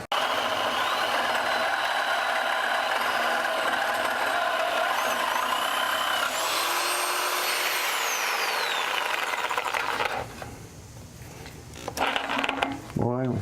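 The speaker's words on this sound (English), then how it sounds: "So I'm going to go ahead and get my reciprocating saw, make a cut here" Chicago Electric 9 amp reciprocating saw cutting through an exhaust tailpipe on a 1966 Buick Riviera, a loud continuous buzzing drone for about ten seconds that then drops away, leaving a few clanks and rattles.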